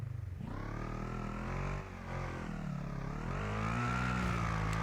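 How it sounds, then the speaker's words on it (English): Off-road vehicle engine in the rock crawling video game Overpass, a continuous growling drone that rises and falls in pitch as the throttle changes, loud and steady throughout with no talk. "Hopefully you can hear me over the angry engine."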